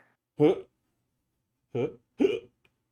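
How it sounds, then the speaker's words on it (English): Three separate hiccups sound close and clear, a lone one and then a quick pair, with silence in between. "No, I have hiccups."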